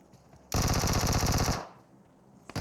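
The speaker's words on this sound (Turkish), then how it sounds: "Vektör iyi iş çıkartmaya başladı dostlar" Vector submachine gun in PUBG Mobile firing one rapid, loud burst of about a second, steady rhythmic shots, then a short quiet gap with faint game ambience and a brief noise at the end.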